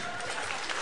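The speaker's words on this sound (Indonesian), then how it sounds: "Okey, tepukan untuk Ning" Audience applause at an Akademi Fantasia season 6 concert, a steady dense wash of clapping that holds evenly through the short stretch with no voices standing out.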